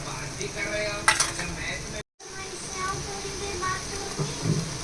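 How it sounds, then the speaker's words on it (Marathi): Prawn masala is stirred and sautéed in a hot pan, producing a steady close sizzle with occasional scraping clinks of the spoon and a short gap near the middle. "परतून परतवून घेऊया थोडंसं शिजू दे लालसपर्यंत"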